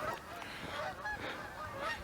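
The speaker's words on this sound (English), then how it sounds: "Geese flying overhead," Geese flying overhead give several distant honks, faint and spaced out over a soft outdoor background.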